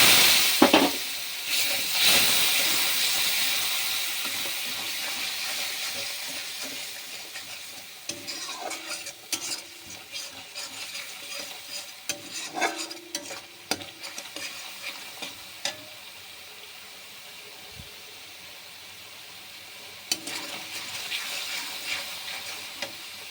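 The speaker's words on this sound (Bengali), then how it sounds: "বন্ধুরা দেখো, এই মশলাটা কষিয়ে নিচ্ছি।" Spice masala frying in a pan, being stirred with a steady hiss and sizzle, scattered spoon scrapes and knocks, and occasional louder bursts of spattering.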